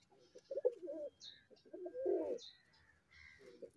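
A desi breeder pigeon cooing close by in soft repeated bursts of low throaty warbles, with faint higher chirps from other birds in the background.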